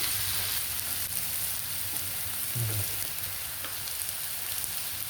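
Chopped onion sizzles steadily in a pan with salt and besan (gram flour), a constant crackling hiss with an occasional light scrape from stirring.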